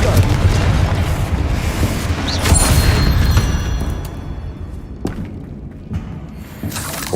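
Booming blasts from the Confringo fire spell in Hogwarts Legacy, a loud roaring explosion that swells midway and then decays into rumbling debris, with a few sharp cracks near the end.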